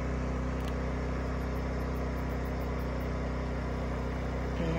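A propane generator runs outdoors beside a tiny house in Wisconsin, giving a steady, continuous engine hum with a low droning tone that holds even throughout, close by and with no voices.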